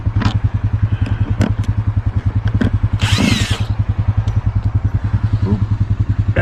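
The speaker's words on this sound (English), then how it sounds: "Put my screw gun in there, so I wouldn't have to deal with the screwdriver." A power screw gun drives long screws during a septic system installation, its motor buzzing steadily and loudly throughout with a rapid pulsing rattle and a brief higher whine partway through, with no talking.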